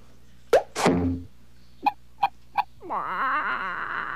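A chicken squawks once sharply, then gives three short, evenly spaced clucks, ending in a longer warbling cackle, close and fairly clear against a quiet background.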